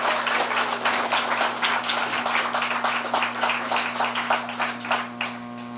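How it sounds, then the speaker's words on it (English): A live audience applauds a singer named Christine, a dense, steady wash of many hands clapping close and loud throughout, easing slightly at the end, over a low electrical hum. "How about another round of applause for Christine?"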